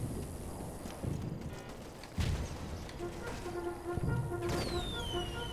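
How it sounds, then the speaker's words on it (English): In the Toy Soldiers video game, horses walk with a steady clip-clop of hooves, mixed with scattered distant booms of battle fire at moderate loudness. "There is a lot of horses."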